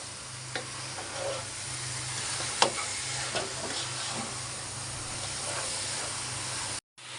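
Beef and jackfruit stirred together in a cooking pot, a steady low sizzle with scattered scraping clicks of the spoon, close and moderate, no voices.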